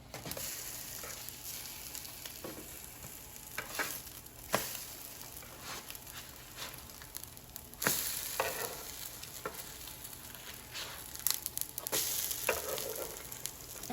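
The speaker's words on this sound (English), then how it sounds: "we're going to flip it and finish cooking it on the other side." French toast made without milk, frying on a griddle, gives off a steady close sizzle that runs throughout, broken by occasional sharper crackles and pops.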